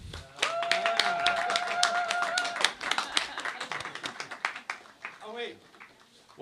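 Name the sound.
audience applause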